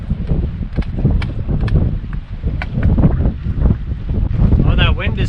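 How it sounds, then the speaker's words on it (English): Gusty wind blows outdoors at a campfire where cream of mushroom soup is cooking, a loud, steady rumbling buffet against the microphone with some faint knocks and a brief whistling tone near the end. "Wind is starting to pick up."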